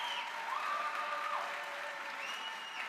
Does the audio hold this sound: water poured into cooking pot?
no